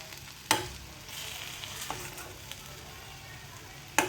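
Stuffed okra frying in a pan, a soft steady sizzle throughout with a couple of sharp clinks of a utensil.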